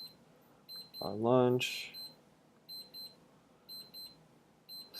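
An electronic alarm beeps in short, evenly spaced bursts that keep repeating in the background while a person talks over it.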